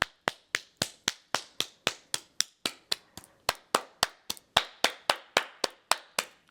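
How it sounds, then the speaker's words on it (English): Hands clap steadily in a qigong self-care practice, about twenty-five crisp, close claps at a brisk even pace, alone with no voices. "Clapping,"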